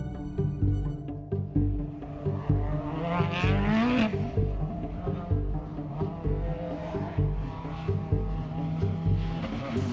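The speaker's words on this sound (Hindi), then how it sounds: "मुझे एक सीधी सड़क और एक शोर मचाती हुई कार की जरूरत पड़ेगी" A noisy car drives past on a straight road, its engine loud and steady with a rising and falling tone as it approaches and moves away, heard alone without voices.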